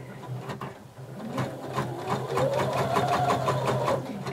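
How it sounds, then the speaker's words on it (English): Sewing machine stitching a 5/8 inch seam around a curved fabric edge for a romper or dress, a close steady rapid mechanical whir with rhythmic needle clatter, gently rising in speed, with no talk. "you're going to sew, don't back stitch, around that curve at 5/8 of an inch seam allowance"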